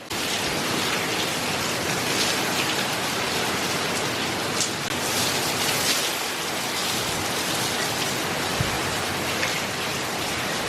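Hurricane Milton's heavy rain and wind roar outdoors as a steady, dense wash of noise that holds at constant loudness throughout, with no voices.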